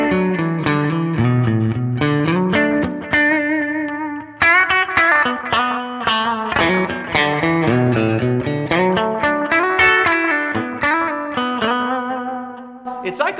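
Electric guitar played through a Fender silverface amp head and separate cab, with a string of picked notes and chords, some effects and distortion, loud and up close with no talking.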